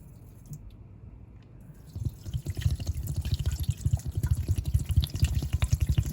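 Water runs and splashes while the tank of a Rug Doctor carpet cleaner is rinsed, starting after a quiet moment and building into a loud, steady, rhythmic spatter close by.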